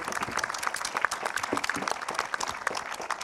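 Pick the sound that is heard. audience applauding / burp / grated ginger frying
audience applauding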